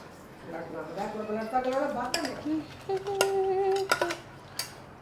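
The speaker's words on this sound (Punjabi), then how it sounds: "ਦੋ ਮਿੰਟਾਂ ਚ ਭਾਂਡੇ ਮੰਜੀਏ" Dishes being washed, with pots and utensils clinking and clattering sharply in short bursts while someone talks close by.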